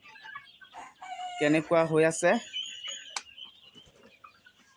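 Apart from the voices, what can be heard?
local chickens clucking on a poultry farm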